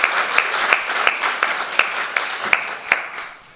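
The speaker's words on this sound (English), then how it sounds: "Give them a round of applause" Applause at a community mayors forum on the unhoused crisis, a moderate crowd clapping steadily with a few sharp louder claps standing out, gradually tapering off at the end.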